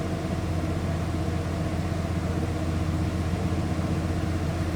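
A 1994 Ford F150 Supercab XLT 4x4 pickup engine idles steadily, a continuous low rumble with an even, unchanging level and no talk throughout.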